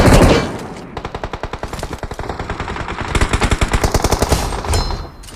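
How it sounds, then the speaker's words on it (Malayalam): PUBG game gunfire rattles in rapid automatic bursts, with a heavy opening shot followed by fast rhythmic volleys, loud and close, with no talk. "ബാക്കിൽ നിന്ന് വെടിയുണ്ടല്ലോ"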